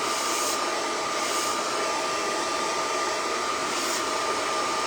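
A hair dryer blows continuously with a loud, steady whooshing hiss and a faint whine throughout, drying a short blonde pixie haircut, with no voices.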